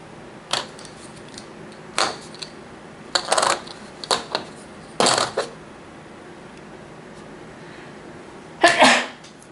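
A sneeze bursts out among a series of short, sharp clicks and taps from a tabletop board game being played, with a louder final sneeze-like burst near the end and no talk around it.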